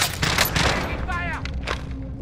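Close, rapid gunfire crackles in a brief burst during a multiplayer shooter video game, overlapped by a voice talking.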